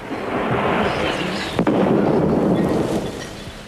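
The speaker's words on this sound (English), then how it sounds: "Thunderstorm." A thunderstorm rumbles in a deep, continuous roll that stays loud throughout, with a sharper crack about halfway through.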